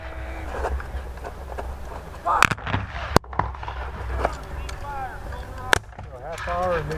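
Cannon fire at a Civil War reenactment sounds as a few sharp, booming reports spread through the clip over a busy outdoor background of wind and crowd noise, with people talking nearby.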